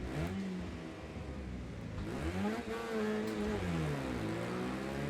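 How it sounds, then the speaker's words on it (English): Racing car engines in the Wreckfest 2 video game rev and accelerate in rising and falling sweeps, a steady mid-pitched drone filling the whole stretch at moderate level with no talk. "Those engine sounds are so good."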